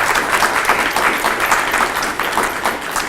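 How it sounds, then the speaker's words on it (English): An audience at a City of Albuquerque news conference claps in sustained, dense applause that continues evenly throughout, with no talking over it. "Let's give them a big round of applause right now"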